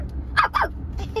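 A voice imitates a dog with two quick, high yapping barks close by, followed by a softer third yip.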